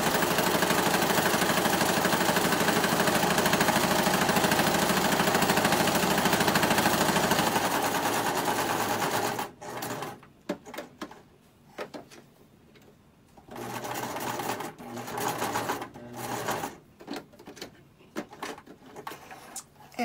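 A sewing machine top stitching a fabric napkin runs in a loud continuous whir for about eight seconds, then cuts to quieter intermittent handling and rustling sounds.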